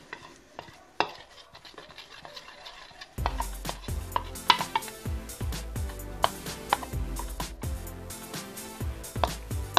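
Slime made with detergent and a drop of food colouring is stirred in a plate, making close, wet scraping with repeated clicks and taps that grow busier partway through.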